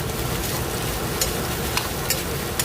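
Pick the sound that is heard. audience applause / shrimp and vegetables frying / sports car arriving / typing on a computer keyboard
shrimp and vegetables frying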